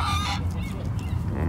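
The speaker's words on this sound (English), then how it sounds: "let's get a look at these swans and geese a little closer" Geese honk close by near swans under a bridge, a loud, dense flock of calls with harsh overlapping honks throughout.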